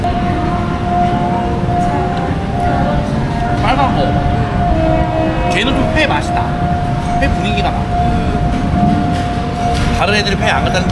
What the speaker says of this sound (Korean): 아, 또 기차 지나갑니다.